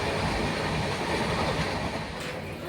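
The 13151 Jammu Tawi Express, heard from inside the carriage, runs at high speed with a loud, steady rumbling roar of wheels and rails that continues without pause.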